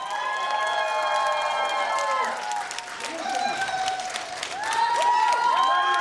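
Applause and cheering fill the hall for a professional belly dancer at a 2019 conference, with steady clapping and a crowd roar heard under an excited announcer's voice, loud and continuous.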